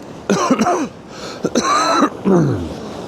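Several rough coughs from an angler on a Northumberland beach come in short clustered bursts, close and fairly loud, with brief quiet gaps between them and no talking.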